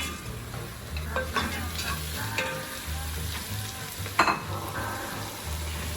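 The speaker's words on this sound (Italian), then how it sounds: "Buttiamo le nostre costine dentro col soffritto." Pork ribs hit a hot pan of soffritto and sizzle steadily, a dense continuous frying hiss with occasional stirring scrapes and one sharper clatter near the end.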